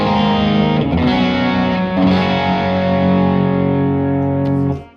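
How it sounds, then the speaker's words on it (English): An electric guitar played through an Analogman King of Tone overdrive pedal, with no modulation effects engaged, rings out in loud, sustained distorted chords that shift once or twice and then cut off abruptly at the end. "here's the King of Tone before the modulation effects"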